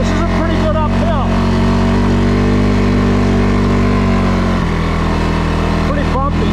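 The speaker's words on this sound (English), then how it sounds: "We're ripping right up this hill with total control. No bogging at all." A 2022 CFMOTO CForce 600 ATV engine pulling steadily up a bumpy dirt hill, a loud, constant droning rumble close to the rider that briefly drops in pitch partway through before holding again.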